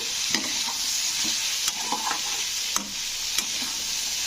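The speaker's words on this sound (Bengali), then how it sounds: "লবণটা দিয়ে একটু আবারও নেড়ে দিলাম" Carrot and beetroot being stirred in a pan just after salt goes in, with a steady gentle sizzle beneath scattered scraping clicks of the spoon, close and moderately quiet.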